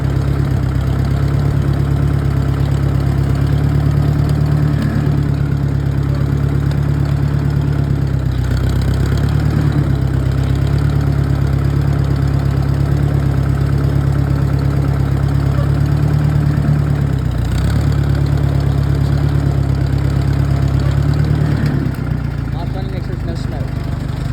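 A used tractor engine idling in gear, a loud, steady low rumble with a constant drone that holds throughout, with only slight variations in tone.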